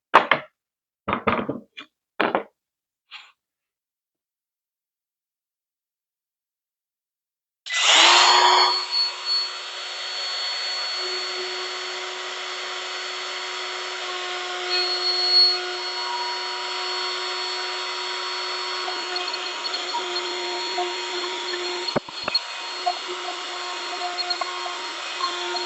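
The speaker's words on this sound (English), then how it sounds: "Now that we've got those grooves routed in there" A handheld router cuts grooves into a wooden 1x6 board: a few sharp knocks and clicks, a pause, then the motor spins up into a loud, steady whining roar that holds for many seconds with slight shifts as the bit travels.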